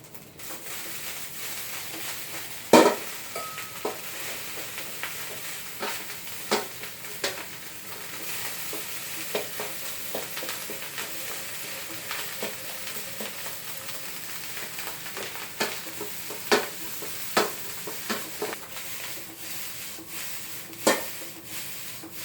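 Vegetarian fried rice is stir-fried in a pan with a steady soft sizzle, while a spatula scrapes and taps against the pan in irregular, close strokes.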